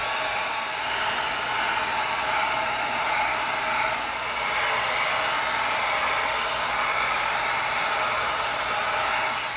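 A heat blower roars with a steady, broad whoosh while tightening EVA foam for a bison axe before gluing. The airflow holds close and constant throughout, with no speech.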